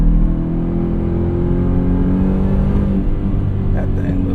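A 2026 Ford F150 Raptor R engine rumbles close and loud from inside the cab, droning steadily as the gears downshift quickly, with someone talking over it.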